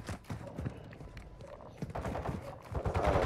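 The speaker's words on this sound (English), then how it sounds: "You are taking effective fire." Gunfire in the video game DMZ: rapid bursts of close shots and thumps in a busy, cluttered mix, getting louder toward the end.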